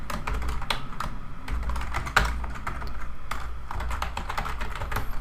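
Code is typed on a computer keyboard as a try-catch block is written, giving a steady run of close, quick key clicks with one sharper tap midway and no talk.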